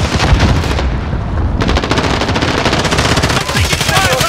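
Rapid automatic gunfire in the Call of Duty Warzone video game, dense bursts of loud shots rattling continuously with a brief lull near the start, close and overwhelming.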